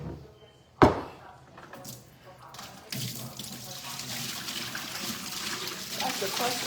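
Dirty water pours out of a heavy pot being washed in a kitchen sink, a steady rushing flow that starts with a sharp splash and continues loud and close to the end.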